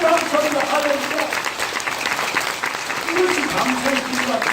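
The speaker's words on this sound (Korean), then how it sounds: "우리 하나님께 뜨거운 박수로 한번 영광 올려드리기 원합니다" A church congregation applauds warmly during a worship service, sustained clapping filling the room with sung or spoken voices weaving through it.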